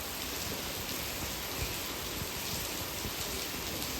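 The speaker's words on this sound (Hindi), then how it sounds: "बारिश ही बहुत ज़्यादा हो रही है" Steady, dense rain pours down without pause, a continuous hiss with soft patter on surfaces.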